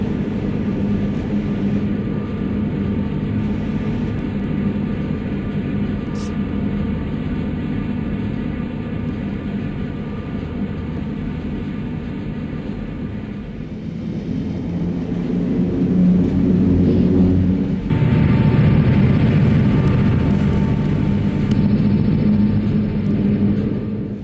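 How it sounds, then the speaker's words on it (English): A Milwaukee Road train rolls across the 13-span steel girder trestle at Saltese, Montana, a loud steady rumble and roar that swells louder and rougher partway through, with no voices. "the train crosses the 13 girders span steel trestle at Saltese, Montana"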